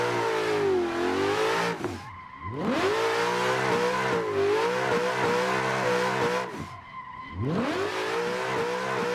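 A 350 car drifting on a hillside road in the Assetto Corsa racing game, with a steady revving engine and sustained tire squeal that rises and falls through the corners, broken by two short dips in engine pitch.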